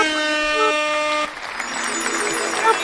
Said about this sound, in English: My air horn's not as good.